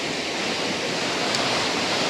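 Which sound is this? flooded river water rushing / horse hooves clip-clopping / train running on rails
flooded river water rushing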